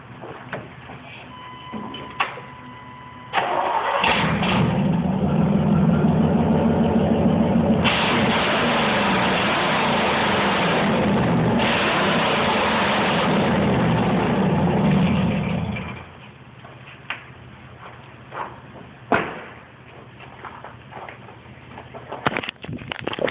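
A truck engine with a freshly redone exhaust idles and runs steadily, a loud low rumble that holds for about twelve seconds before dropping back to a quieter idle.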